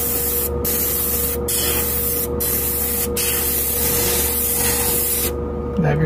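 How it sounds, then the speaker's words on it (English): Short hissing bursts from a Sparmax Max 3 airbrush spraying paint in a wider pattern, repeated roughly four times in an even rhythm over a constant loud air hiss, close to the microphone. "Spray a wider pattern now."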